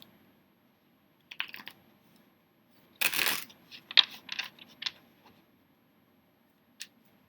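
A deck of tarot cards is shuffled in short bursts, giving crisp riffling flutters and light clicky taps separated by quiet gaps, close and dry, with no talking.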